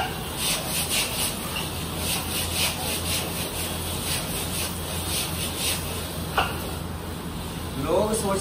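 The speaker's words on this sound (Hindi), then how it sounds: "इसकी धुलाई अच्छे से करनी है, रगड़ रगड़ के" A fungus-covered item scrubbed and washed by hand, with rhythmic close rubbing strokes repeating steadily, while a voice talks over the scrubbing.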